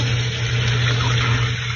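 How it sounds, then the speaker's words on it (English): Water pours steadily into a cooking pot for soup, a close, loud, continuous gushing splash with a low steady hum beneath. "I'm gonna put some water first"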